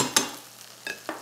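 Ham and cheese browning in butter in a skillet: a faint low sizzle with a few sharp scrapes of a utensil against the pan, close by and with no talking.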